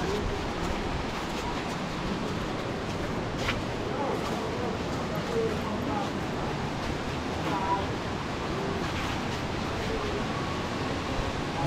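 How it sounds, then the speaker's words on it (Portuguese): Steady broadband rushing of a waterfall with coffee-coloured water in far eastern Brazil, continuous and fairly loud, with no clear pauses across the whole stretch. "Aqui é o tal da cachoeira."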